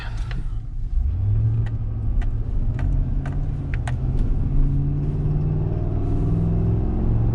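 A car engine rumbles and builds as it accelerates toward about 2,500–3,000 RPM, a steady low drone rising in pitch, with faint ticking noises early on.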